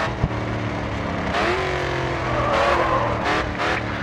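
A race car drifts through a corner in the GRID 2 racing game, its engine droning loudly as the tires squeal in a long, wavering screech that swells midway and carries to the end.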